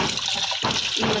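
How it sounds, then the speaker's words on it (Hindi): Water is poured off rinsed lentils and rice in a kitchen, a loud steady gush and splash that briefly dips and then surges again. "अब पानी जो है वो बॉयल हो गया है, तो मैंने एक बार फिर भी इसमें से ना पानी जो है वो छान के निकाल देती हूँ"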